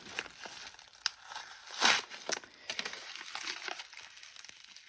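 A taped mailer envelope holding ordered items is pulled open up close. Paper crinkles and the tape tears in quiet, scattered bursts, with one louder rip near the middle.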